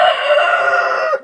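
A rooster crows once, loud and close, in a long sustained call on a small farm with chickens and rabbits, with no one speaking.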